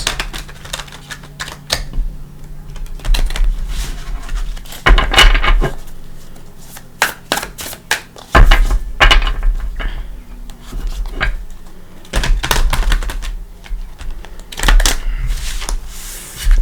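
Repeated bursts of rapid riffling and flicking as a tarot card deck is shuffled several times, with short pauses and soft tapping between.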